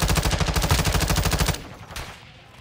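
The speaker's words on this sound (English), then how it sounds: "This gun shooting all over the place." Rapid automatic gunfire in Call of Duty: Modern Warfare II, a steady stream of loud, close shots for about a second and a half that cuts off abruptly, leaving a brief fading tail.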